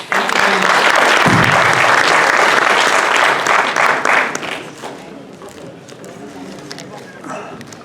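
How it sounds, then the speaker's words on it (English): A school conference audience claps for the panelists in a loud, dense burst of applause that fades after about four seconds, leaving softer scattered claps and room murmur. "So a big round of applause for our panelists."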